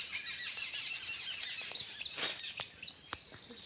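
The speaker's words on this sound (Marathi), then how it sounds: "पक्ष्यांचा चिवचिवाट आहे." Birds chirping in a forest beside a clear stream, with faint, scattered tweets and calls over a steady high insect-like hiss, quiet and somewhat distant.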